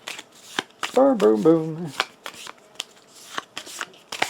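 A deck of playing cards is shuffled up close in repeated crisp riffling bursts, with a voice speaking over part of it.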